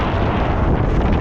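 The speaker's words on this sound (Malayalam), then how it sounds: "അയ്യോ ഭയങ്കര കാറ്റ്." Strong wind roaring and buffeting close against the microphone on a mountain off-road route, a loud, continuous low rumble with no voices.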